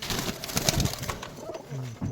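Low, soft coos from a male Giribaz pigeon of the Rajshahi local line repeat close by over a rustling, noisy background.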